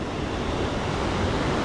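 Steady broadband roar of ocean surf on a rocky beach, continuous and fairly loud with no distinct individual breaks, wind-like wash filling the whole stretch.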